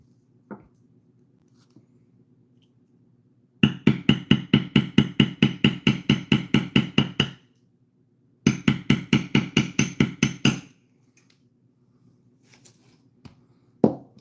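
A hammer strikes a metal beveling tool on leather while a target is being made, in two rapid runs of sharp, evenly spaced taps, each lasting about four seconds and separated by a short pause, close and alone, followed by a few scattered knocks.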